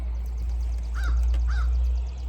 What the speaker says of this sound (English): There are 2 crows talking.